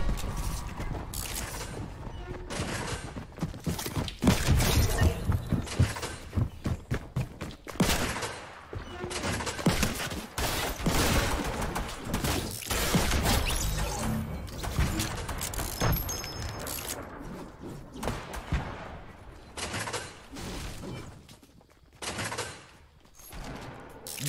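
Rapid automatic gunfire from a high fire-rate weapon in Fortnite rattles in dense bursts across the whole stretch, loud and close, with brief pauses and mechanical clicks between strings of shots.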